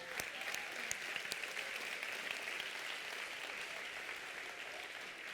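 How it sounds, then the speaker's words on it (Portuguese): A church congregation applauds in a steady, dense wash of clapping, with a few sharper individual claps standing out, heard at moderate distance with no talk over it. "Aplauda o Senhor."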